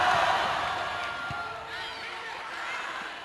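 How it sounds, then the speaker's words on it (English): A packed gym crowd roars through a tense girls' state championship volleyball rally, steady broad cheering with whoops rising and falling, carrying continuously under an announcer's voice. "Listen to that crowd."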